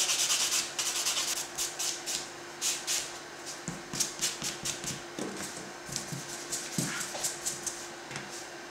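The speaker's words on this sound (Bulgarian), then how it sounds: "Минавам го с буфер пила." A fingernail being buffed with a buffer file during nail reconstruction of short, bitten nails: steady rhythmic rubbing strokes, close and moderately loud, repeating about twice per second throughout.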